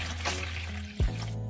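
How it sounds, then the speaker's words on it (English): Distilled water being poured into a small rinsing container, a soft trickling splash heard up close over a steady low hum. "fill it with a little distilled water"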